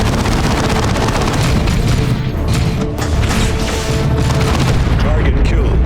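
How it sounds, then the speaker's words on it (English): Grenade blasts in the Warhammer 40K Dawn of War 2 Chaos Rising video game, loud continuous booming and crashing battle noise with dense low rumble, a speaking voice woven through the din. "Grenade that target."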